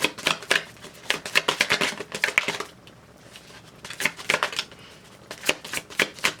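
Tarot cards are shuffled close by in rapid bursts of riffling flicks and slaps, broken by a short quiet pause before more shuffling. No voices.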